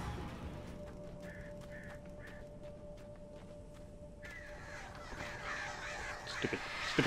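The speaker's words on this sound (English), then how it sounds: "Oh, crap, got crows." Crows caw in the video game Alan Wake, with a few short, evenly spaced calls at middle distance over a low, constant in-game hum, followed by rising rustling noise.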